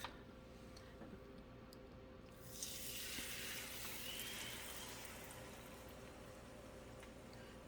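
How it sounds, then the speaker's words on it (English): Beaten egg hits a hot pan for a sausage and mushroom omelet, a sudden bright sizzle that surges up midway and then settles into a steady, softer hiss, with no talking. "I'm going to add this egg to this pan."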